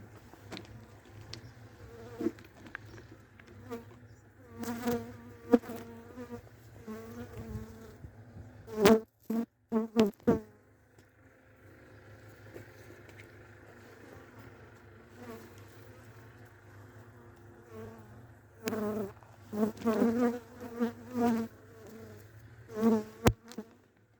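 Honeybees hum and buzz steadily close by at split hives in December, the drone swelling as bees fly near, with a few sharp knocks and taps scattered through.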